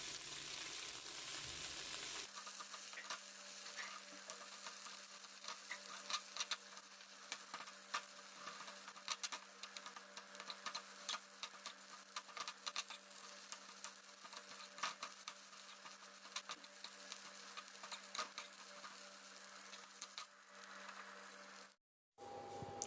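Ilikivi leaves sizzle steadily as they fry with cumin in hot ghee, with a continuous close hiss, a brief sharp break near the end, and occasional clicks of stirring.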